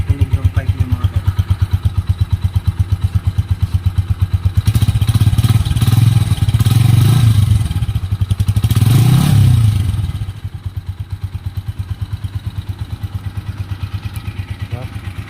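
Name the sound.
Honda TMX 125 Alpha motorcycle exhaust pipe revving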